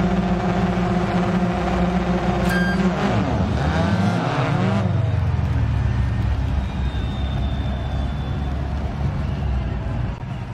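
An Opel Corsa Super 1600 rallycross car in Dirt Rally 2.0 races with a loud, continuous engine roar, a sweeping rev change as it launches or shifts, and sustained tire noise from the surface.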